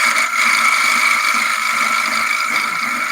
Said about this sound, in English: I'm going to go parting tool. Let's see how much noise it makes.